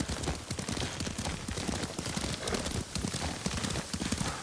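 Horse hooves clip-clop steadily at a riding pace in the samurai game Ghost of Tsushima, a dense continuous rhythm of hoofbeats close and loud throughout, with no talk.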